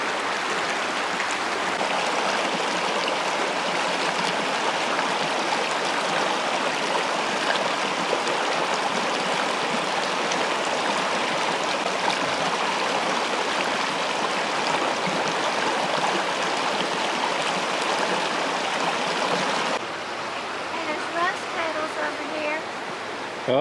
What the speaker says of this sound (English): Did you notice the other river creek running in right over there into this one?